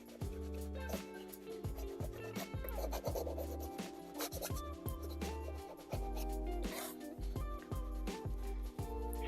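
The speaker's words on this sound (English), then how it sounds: "Let me scrub this here." A paintbrush scrubs acrylic paint over a yellow underpainting on canvas in a landscape painting, making continuous close rasping, scratchy strokes in a steady back-and-forth rhythm over a constant tonal background.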